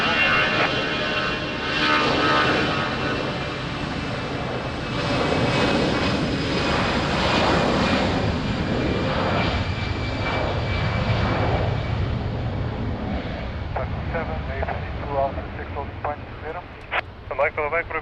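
Airbus A320 rolls on the runway at Lisbon Airport, a loud sustained jet engine roar that swells and holds, heard outdoors with air traffic radio chatter over it.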